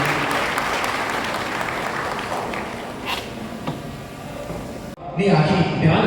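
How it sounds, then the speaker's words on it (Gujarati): Applause at a police superintendent's farewell ceremony in Petlad fills most of the moment as a dense, steady clatter of many hands, then breaks off sharply into a different, muffled sound near the end. "આપણે જોરદાર તાળીઓના ગણગણાટ"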